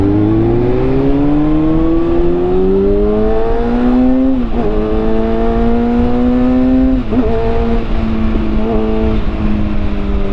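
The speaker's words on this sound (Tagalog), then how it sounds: "Traffic pa naman, grabe ang traffic." Car traffic on a busy road, heard up close as a loud, continuous engine drone that rises in pitch as a vehicle accelerates, then dips and climbs again with gear changes, steady throughout with no talking.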